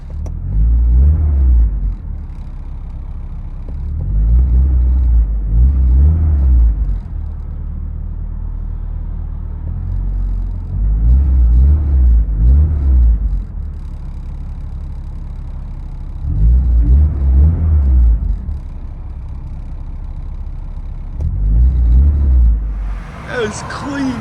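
Inside a 1994 Nissan 240SX 2.4L with an HKS Sport cat-back exhaust, a deep, clean engine tone swells in repeated low rumbling pulls and eases between them, steady and close, without loud drone.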